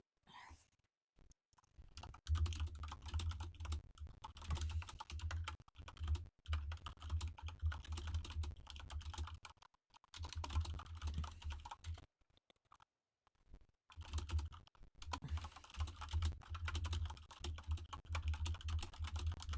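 Typing on a computer keyboard, rapid clattering keystrokes in long bursts with brief pauses, quiet and close, with no voices over it.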